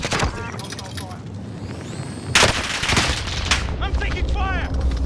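Gunfire in Call of Duty Warzone on the Fortune's Keep map, bursts of shots and a loud blast around the middle, sitting under a steady game mix with whistling tones and a player's voice.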